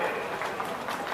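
Steady crowd clapping at a Kambala buffalo race in Miyar, a dense, even patter of many hands held at moderate level throughout the short stretch.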